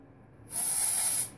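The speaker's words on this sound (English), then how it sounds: "First, if you put on the dry shampoo like this," A can of Dove dry shampoo gives one steady hiss lasting under a second as it is sprayed onto hair, close and fairly loud, starting and stopping sharply with quiet before and after.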